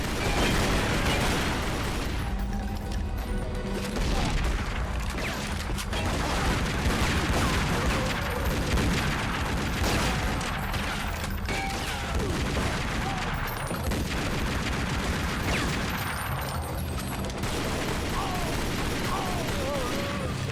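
Grenade explosions and heavy gunfire in a Tomb Raider firefight, a dense and continuous wall of shots and blasts that runs under a speaking voice throughout.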